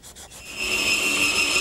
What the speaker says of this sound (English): A little hand sanding will clean up those areas.